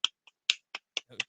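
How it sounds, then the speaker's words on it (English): A soft golf clap: six light, sparse hand claps spaced unevenly across about a second, crisp and close with silence between them. "we'll hit them with a golf clap"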